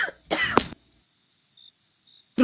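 One short harsh cough sounds close and alone, with a brief vocal noise just before it and another beginning right at the end, separated by near silence.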